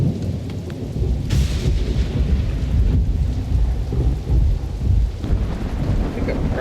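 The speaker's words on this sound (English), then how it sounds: "God, that storm sounds so good in my head right now." A thunderstorm rolls through in Welcome to Hanwell, with steady heavy rain and deep rumbling thunder filling the background. A brief crackling burst cuts through the loud, continuous downpour.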